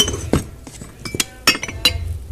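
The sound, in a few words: glass vases clinking while being handled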